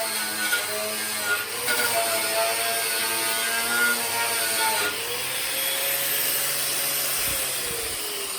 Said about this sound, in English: I want to make sure I take a wire wheel here